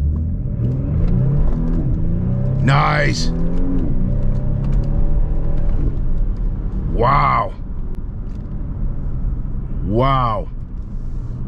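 A six-year-old Porsche Panamera 4 on a test drive, its engine rumbling as it accelerates and revs through three rising pulls, each climbing in pitch before an upshift, while the driver murmurs brief reactions.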